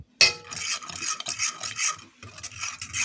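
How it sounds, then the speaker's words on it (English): A spoon stirs milk into a butter roux in a pot for Caribbean-style homemade mac and cheese sauce, giving close, steady scraping and swishing strokes with brief pauses and no talking. "I'm just going to keep stirring."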